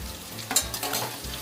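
Cashews stirred into onions in a hot pan for kaju paneer curry, with a steady close sizzle of frying and a few scraping stirs of the spoon across the pan.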